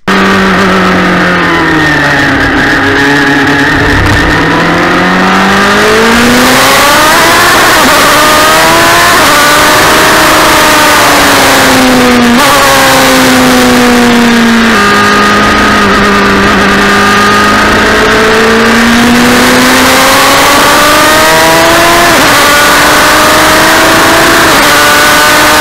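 A Formula-style single-seater race car on the Magny-Cours circuit screams through repeated upshifts, its engine pitch climbing and dropping in waves, loud and close with no talk.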